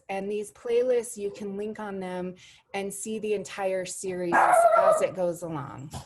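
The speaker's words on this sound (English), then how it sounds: "That's my dog Roscoe" Roscoe, a pet dog at home, gives a short burst of yipping barks partway through, close by and overlapping a person talking steadily.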